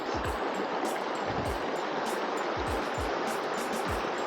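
River water flowing steadily in Borjomi, Georgia, a close, continuous broadband rush with faint low thumps, heard alone without voices.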